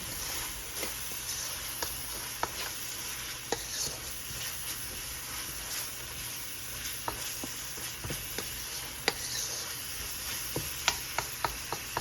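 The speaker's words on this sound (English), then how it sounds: "I'm gonna put a little bit of ground black pepper. Ooh. Fry that up." Ground black pepper fries in melted butter in a pan for broccoli cheese soup, a soft steady sizzle under scattered clicks and taps of a utensil against the pan.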